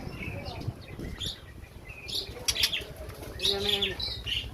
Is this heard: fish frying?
no